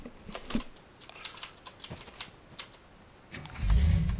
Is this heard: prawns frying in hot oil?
no